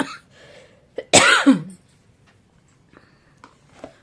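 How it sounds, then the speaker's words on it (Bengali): One harsh, close cough from a lingering months-long cough bursts out after a short breath, followed by quiet shuffling and small vocal sounds. "এক মিনিটও কথা বলছি না কাশি হচ্ছে"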